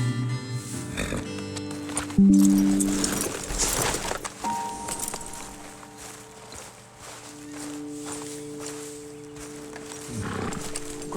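Horses in the Red Dead Redemption 2 video game, hooves clopping with a brief snort or whinny amid outdoor ambience and game music, moderately loud and close.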